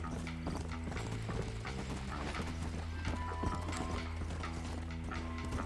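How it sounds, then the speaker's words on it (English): Horse hooves clip-clop steadily in the Western video game Red Dead Redemption, a rapid even gallop rhythm under a low game soundtrack hum, with occasional mechanical clicks and a faint neigh mixed in, moderately quiet overall. "I don't want my horse to die."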